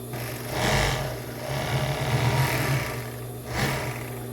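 A domestic sewing machine stitches the pieces of a cropped bra together, with lace and lining. It gives a close, steady whirring hum that rises in bursts and eases between short runs.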